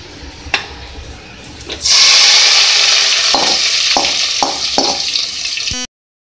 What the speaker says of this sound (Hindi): मैं दाल में इसको तड़का दूंगी इसका